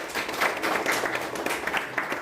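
Audience at a government school's Independence Day celebration claps to welcome guests on stage, a moderate, steady patter of many hands with soft individual claps standing out, continuing evenly throughout.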